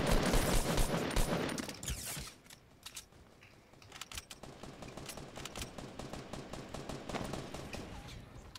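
Video game gunfire crackles in dense rapid bursts, loud at first, then dropping off before lighter rattling volleys resume and continue to the end.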